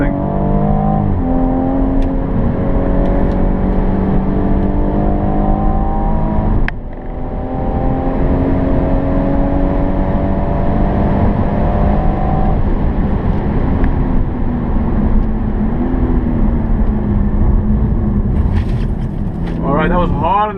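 A 2017 BMW M240i engine pulls hard on a race track at Killarney International Raceway, rising harmonic engine tones climbing and stepping through gear changes, loud and continuous from inside the cabin, with someone talking over it.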